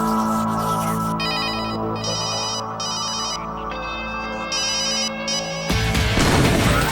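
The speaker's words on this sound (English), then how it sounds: "Jamie and Adam have to make a phone call or two" An electronic phone ringtone trills in repeated bursts, loud and close, with a sustained tone beneath, before a sudden noisy crash cuts in at the end.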